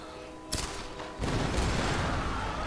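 Gunfire in the video game Tomb Raider (2013): a sharp shot cracks out, then a sustained burst of rapid automatic fire rattles on continuously at moderate volume.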